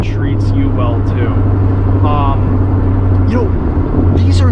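Maserati GranTurismo convertible with a Ferrari-built V8, a steady low engine drone at cruise, loud and constant throughout, with someone talking over it.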